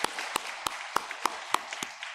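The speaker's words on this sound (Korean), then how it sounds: "우리를 불러주신 우리 하나님께 영광의 박수를 드리겠습니다." A church congregation gives God a brief round of applause during a worship service, heard as sparse, distinct claps spaced about every third of a second, fairly quiet and without talk.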